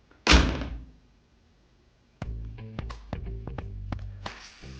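A 1972 Porsche 914 door closes with one loud, solid thunk and a brief rattle, followed after a short pause by a run of lighter clicks and knocks from the latch and body panels.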